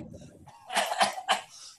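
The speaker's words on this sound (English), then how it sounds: "I need you to cough." An actor coughs on cue during an apocalypse stage play, two rough, loud coughs close up after a quieter murmur.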